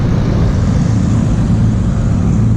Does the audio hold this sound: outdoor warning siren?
no